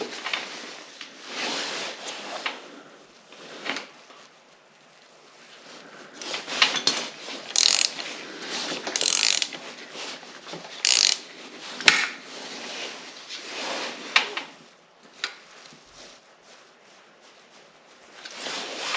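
A ratchet snugs a 10mm bolt on the cam chain tensioner of a 1980 Honda CB900C, close irregular clicking and metallic scraping in bursts with quiet gaps between.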